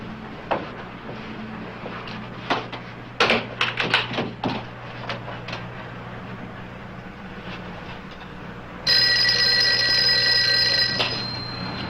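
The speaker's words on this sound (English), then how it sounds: "Well, excuse me, my phone." A telephone rings with a bright, sustained electric bell tone that lasts a couple of seconds. Scattered knocks and taps come before it in an otherwise quiet room.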